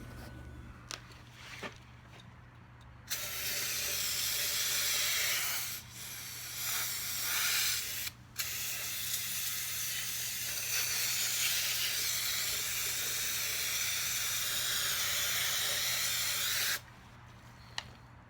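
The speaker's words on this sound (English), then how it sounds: "I just buy this brake cleaner. It's cheap, works good." Brake cleaner is sprayed onto Norton Commando 750 motorcycle parts during a restoration, loud hissing aerosol bursts lasting several seconds with brief gaps, close by, with no talking.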